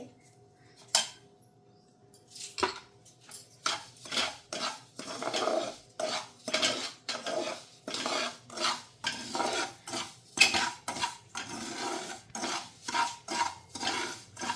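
Ghee-coated semolina being stirred in a pan for mango sheera, a spoon scraping and clinking against the metal in a steady rhythm of close, repeated strokes, with no talking.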